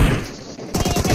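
Rapid automatic gunfire from the video game Last Zone, heard as a dense, loud burst of fast repeated shots in the second half after a quieter stretch.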